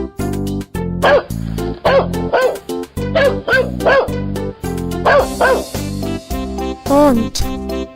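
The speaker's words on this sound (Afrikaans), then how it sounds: "Hond." A dog barks repeatedly in a quick, yappy rhythm of loud close woofs and yips, some whimpering, over a steady musical backing from an Afrikaans children's animal-names song.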